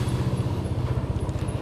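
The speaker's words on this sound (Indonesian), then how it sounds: "Motor." Motorcycle on a road near Bendungan Sidan, a close, loud pulsing engine rumble with a steady rapid beat over the brief moment it passes.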